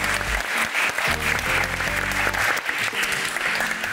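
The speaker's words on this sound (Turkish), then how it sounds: "harika bir yarış çıkaran makarajları da alkışlıyoruz efendim" A studio audience on the Turkish game show Cevap Ver Türkiye bursts into loud, sustained applause, dense clapping filling the whole stretch without pause.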